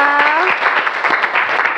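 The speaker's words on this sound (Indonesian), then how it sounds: "boleh beri tepuk tangan untuk kita semua" A physics class in a classroom bursts into close, dense clapping, a brief burst of many hands applauding together.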